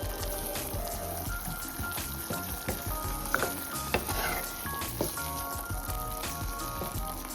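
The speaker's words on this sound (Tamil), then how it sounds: "கொஞ்சம் நல்லா வதங்கட்டும்." Spinach sizzling steadily in a hot pan, a constant crackling hiss with a few soft clinks of a utensil stirring, close by.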